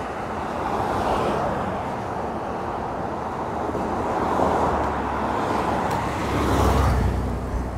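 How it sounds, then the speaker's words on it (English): Continuous car tire roar on Barton Springs Road in Austin, a broad steady rush of traffic passing close by, swelling as vehicles go past, with no talk. "just how loud the tires are"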